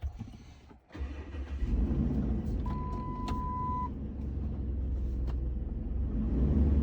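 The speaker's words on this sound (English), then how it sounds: "Just want you to back the truck up out of the garage when we do this." A Dodge Ram 1500 pickup cranks and fires up in a garage, then settles into a steady, close engine rumble as it idles and begins backing out, with a brief high tone partway through.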